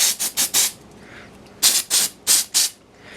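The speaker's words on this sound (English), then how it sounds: "You can just take this spray right here." Short bursts of Moo-Clean electronics cleaner sprayed onto a dirty RC car servo: four quick hissing sprays, a pause with faint rubbing, then four more sharp aerosol bursts, close and loud.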